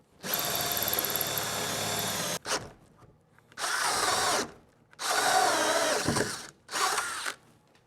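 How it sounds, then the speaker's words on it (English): A power drill whirs into a wooden door in four separate bursts, each a few seconds long, with short pauses between them, loud and close, while drilling holes for a deadbolt. "use this to drill all your holes"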